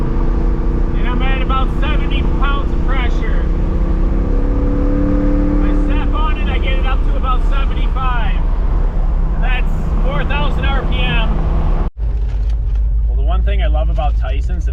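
A Pontiac Firebird fitted with a replacement engine cruises on the highway at about 70, a loud steady engine and road drone with a shifting hum, while people talk over it throughout.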